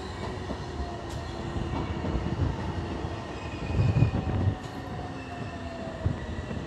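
A Cairo Metro Line 2 train on the Shubra El-Kheima–El Mounib route runs along an elevated bridge with a steady rolling rumble, a louder swell midway and faint wheel squeals, heard from inside at the front of the train.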